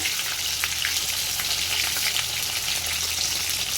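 Chicken pieces with cumin frying lightly in oil, a steady dense sizzle that holds at an even level throughout, close and with no voices.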